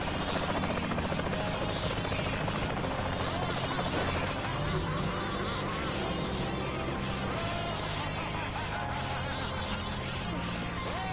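A helicopter flies in the video game Saints Row: The Third, its steady buzzing rotor drone continuous and fairly loud throughout, with game sounds mixed in.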